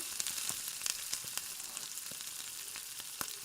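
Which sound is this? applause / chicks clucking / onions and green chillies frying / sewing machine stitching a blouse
onions and green chillies frying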